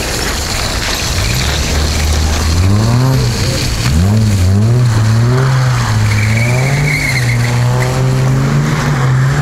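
A Toyota Chaser and a Toyota Crown drift along a snowy road, engines revving hard with rising and falling pitch and tires squealing. The sound is loud and close throughout.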